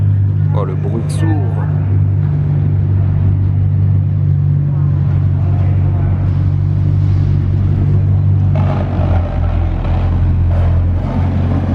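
Ferrari FXX-K Evo supercar engine idling with a deep, steady, loud rumble that continues throughout, swelling slightly near the end, while people talk over it.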